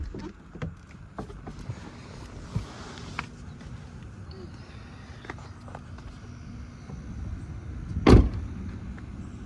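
A car door is opened and then slammed shut with one sharp, loud thud as someone gets out, set against low rumbling background noise on a nasty, wet day.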